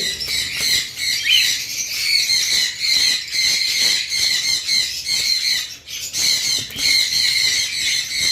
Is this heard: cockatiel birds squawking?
yes